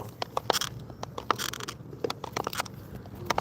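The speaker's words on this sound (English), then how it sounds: "She chewing on a bottle she don't found." A dog chews on a found plastic bottle nearby, giving irregular crackling crunches and scrapes in uneven bursts, fairly close and clear with no talk over it.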